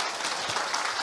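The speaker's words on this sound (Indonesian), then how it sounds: "Coba tepuk tangan dulu." Audience applause at a business conference in a hall, dense steady clapping from a crowd sustained for about a second, with no voices over it.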